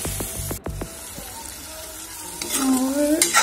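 Coriander, cumin and black pepper powder fry in a pan, with a few sharp clinks of stirring at first, then a steady, rising sizzle close by.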